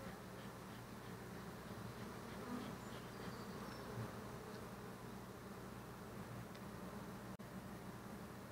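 Honeybees buzz steadily around an open Flow Hive, a dense, even drone of many insects at moderate distance that continues without pause, with no talking.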